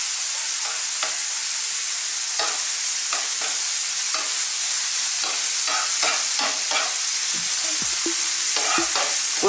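Brisket steak pieces for a Jamaican-style recipe sizzle steadily on a grill, a loud, continuous frying hiss broken by short scraping and stirring clicks as the pieces are moved around, with no talking.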